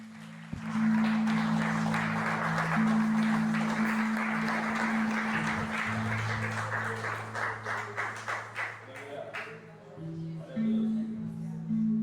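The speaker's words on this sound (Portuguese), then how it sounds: "Você pode aplaudir bem forte ao Senhor" A church congregation claps together during a family worship service, dense applause carrying over sustained organ or keyboard chords and thinning out toward the end as the music continues.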